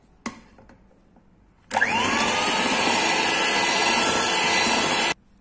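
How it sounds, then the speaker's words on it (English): An electric hand mixer beats egg whites and yolks together for a mocha cake batter: after a brief knock, a steady, loud motor whir starts, holds evenly for about three seconds, then cuts off abruptly. "Now we have to beat this egg whites until it becomes thick and fluffy."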